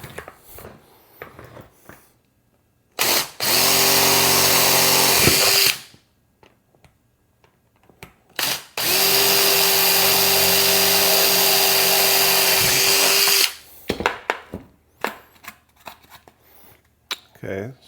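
Power drill boring holes to feed LED wires through, in two loud, steady bursts of a few seconds each, separated by quiet handling and shuffling sounds.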